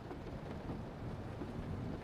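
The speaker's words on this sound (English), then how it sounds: "Nice rain background sound." Steady rain as a constant background hiss and patter, low level and even throughout, with no voices.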